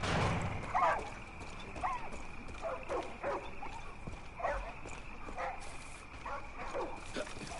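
Several dogs in the Far Cry 5 video game bark repeatedly in quick irregular bursts at moderate distance, with faint thudding movement beneath and a steady high-pitched tone running through the background.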